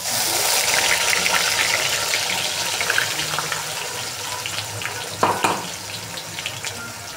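A ground spice paste goes into a hot pan over crackling cumin for Vidarbha-style egg curry, giving a continuous close sizzle with brief scraping and stirring bursts partway through.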